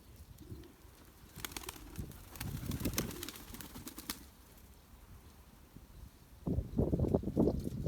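Soft coos of a pair of pigeons rise and fall in short bursts, with rustling and fluttering, then a louder burst of close flapping wings near the end.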